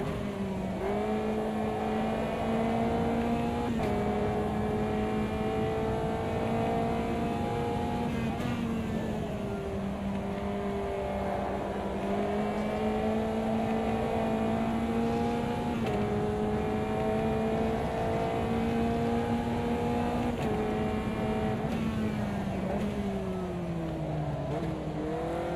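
A race car engine in the sim racing game Automobilista 2 drones loudly and steadily, its pitch rising and falling with throttle and gear changes over a long continuous stretch, with no talking.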